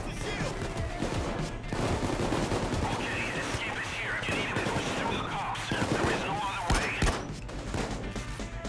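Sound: gunfire from the video game Payday 2

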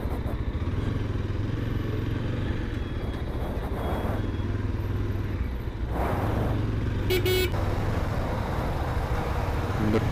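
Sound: road traffic with honking horns and motorcycles

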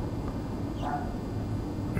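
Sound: dogs barking in a horror video game

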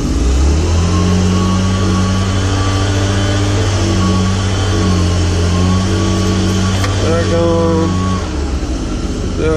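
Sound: Kubota RTV1100 diesel utility vehicle engine starting and running

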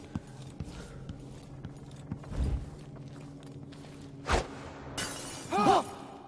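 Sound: glass bottle shattering, from the video game Dishonored 2

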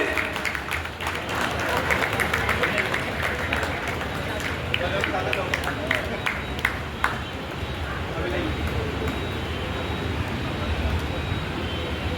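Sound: audience applause welcoming a guest at a meeting

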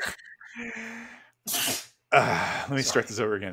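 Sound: sneeze

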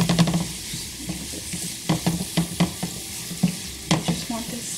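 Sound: sliced scallions frying in a pan

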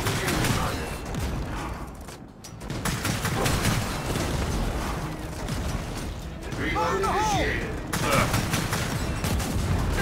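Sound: grenade and gunfire in video game Gears of War 4

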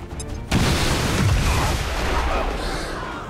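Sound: explosion in the video game XCOM 2

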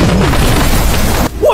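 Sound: explosion blast in film scene

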